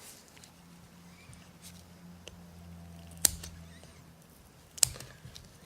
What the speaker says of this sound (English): Cut's very easy. The scissors are sharp.